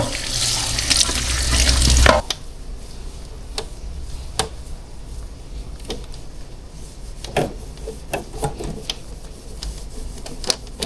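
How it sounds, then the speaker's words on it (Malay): Water rushes out of the hot-water outlet of a Cuckoo King Top water filter tank as it is emptied, a loud gush for about two seconds that then stops, followed by scattered clicks and handling noises. "Kita nak kosongkan dia punya air tangki tu, kita boleh keluarkan dia melalui yang air panas ni"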